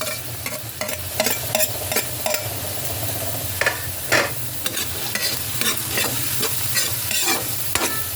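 Carrots and ground meat for giniling are stirred and fried in a pan, giving a loud, close sizzle broken by repeated scraping and clacking strokes of the spatula at a brisk, irregular rhythm.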